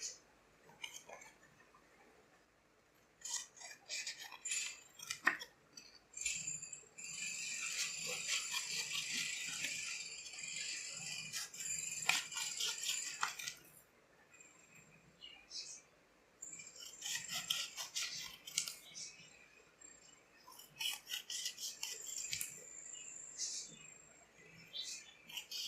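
Scissors make small, equal snips into a paper cone for a curved surface area classroom activity: bursts of crisp rasping cuts in quick clusters, separated by quieter pauses and some handling rustle.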